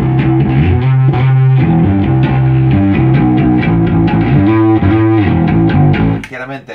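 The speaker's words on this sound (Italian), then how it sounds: "Dopodiché abbiamo la distorsione." A rock bass guitar played through a distortion effect, loud and gritty, repeating a steady riff of sustained notes for several seconds before cutting off, with no talking.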